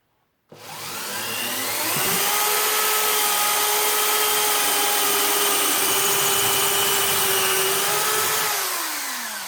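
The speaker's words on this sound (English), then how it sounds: "change to another drill hammer to drill the concrete" A loud, steady hammer drill whine starts abruptly and grinds on continuously into concrete, with a harsh broadband roar and a slight pitch shift near the end.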